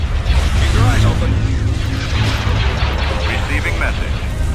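An ion cannon fires in the Star Wars Empire at War video game, heavy rumbling booms and blasts in a loud, dense space-battle mix with a voice speaking under the noise.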